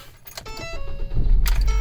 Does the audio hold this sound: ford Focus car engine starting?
yes